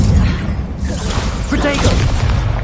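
A fire spell cast in the Hogwarts Legacy video game, a whooshing burst of flame with booming rumble and crackle over dense game noise.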